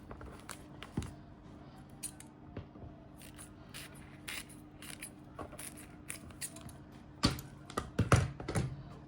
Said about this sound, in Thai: แล้วก็ใช้กรรไกรตัดส่วนที่เหลือออก